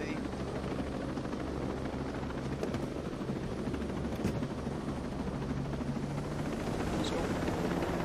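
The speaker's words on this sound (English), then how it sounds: "Alright, I'm in the chopper." Helicopter rotor drone from the game Ghost Recon Breakpoint, a steady, loud low-frequency thrum filling the whole stretch with occasional bursts of distant gunfire and faint voices underneath.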